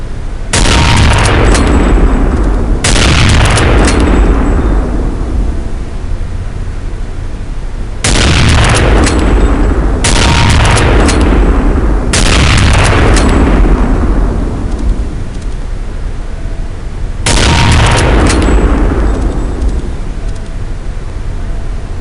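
Counter-Strike: Condition Zero rifle fire at training targets: loud single gunshots in two rapid groups of three and two, each with a long decaying echo, close and without talking.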